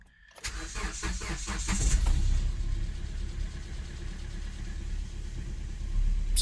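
A 2012 Hyundai i30 engine cranks in a quick burst of rapid starter turns, catches with a loud rev, then settles into a steady low idle rumble that continues to the end, no speech.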